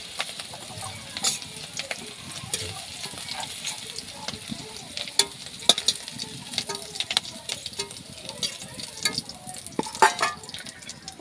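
Soybean chunks and potatoes fry in a pan with turmeric, giving a steady, fairly quiet sizzle broken by scattered crackles and pops throughout.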